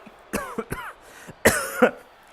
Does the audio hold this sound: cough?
yes